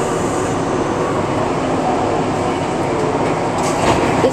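A New York City subway 1 train bound for South Ferry rumbles steadily from inside the car, a loud, continuous roar of wheels and motors with faint rail clicks and a brief squeal near the end.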